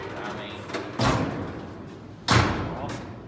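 Heavy steel cab doors on an old 1954 Ford COE truck are slammed shut twice, each a loud, close, solid thud about a second apart, with low voices and shop background between.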